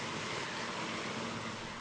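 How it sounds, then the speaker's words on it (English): A large firefighting helicopter flies overhead, a continuous broad roaring engine and rotor wash that stays steady and fairly distant throughout, with no voices. "Another large helicopter has come to help."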